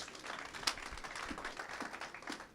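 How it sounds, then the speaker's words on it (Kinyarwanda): Scattered hand claps from a church congregation build into soft, uneven applause, fairly faint and somewhat distant, lasting a couple of seconds. "amashyi menshi cyane"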